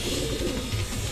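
Racing pigeons cooing close by, soft low throaty coos repeating over a brief stretch with faint background noise and no talking.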